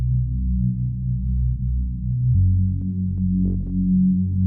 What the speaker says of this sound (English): It is the Prid sidechain bass in XP Dance Volume 1, and we're playing these two notes.